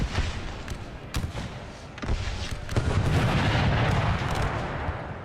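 Artillery booms in an American Civil War hardcore game mod: several sharp, heavy blasts in the first two seconds, then a dense, continuous rumble of distant cannon fire and bursting shells that stays loud to the end.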